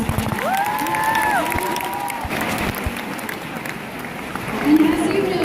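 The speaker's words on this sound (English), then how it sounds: "So give yourselves a round of applause." An audience applauds and cheers at a Wish Week 2017 fundraising event for children with life-threatening medical conditions, broad clapping under a voice talking over the crowd, with a tonal whistle-like sound early on.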